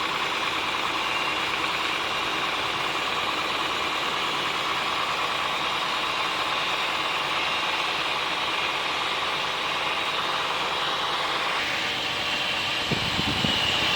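An Oldsmobile Silhouette minivan with a hard-starting fuel system fault idles steadily, a continuous close engine hum and whir that shifts slightly near the end, with a few faint knocks and no talking.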